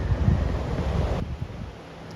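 Ocean surf breaking near a beach just beyond bushes at Vero Beach, Florida, a steady broadband wash with low rumbling and wind noise, continuous and fairly close, no talking.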